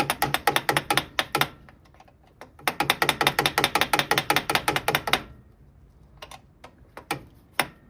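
Ratchet wrench working a stuck bolt on a 1958 Goliath generator, rapid close clicking in two runs of strokes, then a pause and a few isolated clicks.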